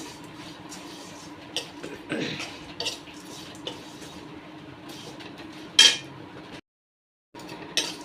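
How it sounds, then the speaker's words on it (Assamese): Flattened rice (chira) dry-roasted in a wok with no oil, giving a steady soft rustling and scraping with a few light metallic clinks and a short silent gap near the end. "প্ৰথমতে মই চিৰা এনেকৈ শুকান কেৰাহীত তেল নিদিয়াকৈ ভাজি ল'ম"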